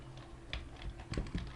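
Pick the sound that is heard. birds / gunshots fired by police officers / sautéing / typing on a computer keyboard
typing on a computer keyboard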